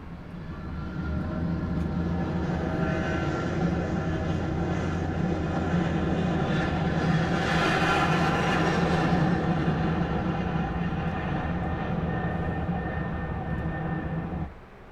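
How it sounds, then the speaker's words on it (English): Airplane sound effect from a transportation sound library: a steady, loud engine drone with sustained tonal hum and a swelling whoosh near the middle, fading out abruptly at the end, with no talking. "Let's see if we can find some airplane sounds."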